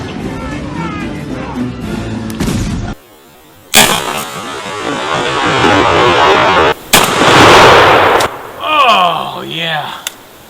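A shotgun fires a Winchester XX 3-inch 5-shot turkey shell during outdoor patterning, a sudden loud blast with a decaying roar, preceded and followed by people talking.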